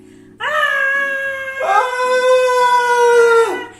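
A wolf's long, loud tonal howl, given in a children's tale as the wolf's tail touches boiling water, rises, then slides to a lower sustained pitch before fading out, heard alone and close.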